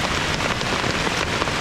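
Heavy thunderstorm rain drumming on a tent, a dense, loud, continuous roar of drops close overhead with no voices.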